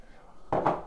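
Bowls and dishes are set down while being dried, a short sudden ceramic clatter after a quiet moment.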